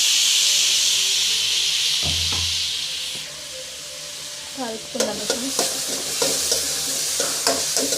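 Tomatoes hitting hot oil with onions and garlic: a loud hissing sizzle that settles down, followed by a run of rhythmic clinks and scrapes from stirring, close by and without speech.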